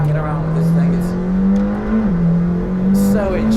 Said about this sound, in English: I'm sure you can hear as well as just how razor sharp the gearbox is.